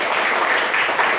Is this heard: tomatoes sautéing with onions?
no